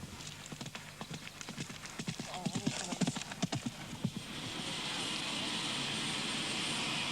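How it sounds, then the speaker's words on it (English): Horse hooves clip-clop along a hard road in Romaldkirk, a steady rhythm of hoofbeats passing nearby, then fading under a rising broad engine-like rumble. "You can hear him going by, clip, clop, clip, clop."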